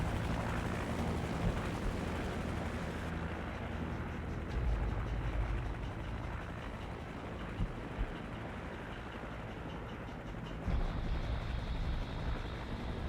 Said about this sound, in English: It's like the weirdest way for a helicopter to just kind of pilot on over.